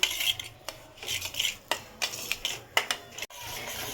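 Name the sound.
roasting semolina in ghee in a pan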